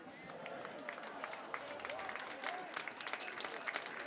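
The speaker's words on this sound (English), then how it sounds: "Fans giving a nice round of applause here at the Foot Family Field" Fans at a high school football game applaud an injured player as he is helped up at Foot Family Field, a faint, steady spread of distant clapping and crowd noise with voices mixed in.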